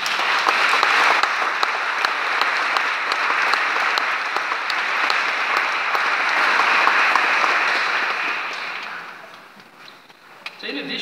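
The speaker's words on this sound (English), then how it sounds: "Would you give them a round of applause?" Parish volunteers standing at the front are honoured with long, full applause from the gathered congregation, steady for several seconds before tapering off and dwindling to scattered claps near the end.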